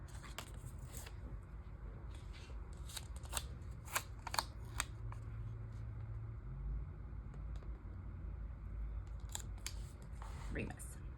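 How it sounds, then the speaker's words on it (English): Scissors snip paper for a reading journal in a run of close, crisp, irregular cuts. Quiet background noise runs underneath. "we can trim that just the tiniest bit"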